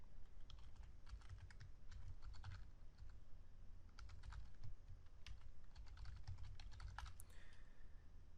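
Typing code on a computer keyboard, with irregular bursts of clicking keystrokes close up over a steady low background hum, no talking.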